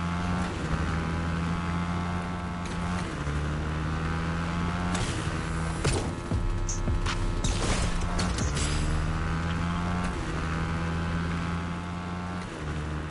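A car drives in the video game Fortnite, its engine a steady droning hum whose pitch climbs and drops in stepped shifts, fairly loud and close, with a brief rough burst midway and no talking.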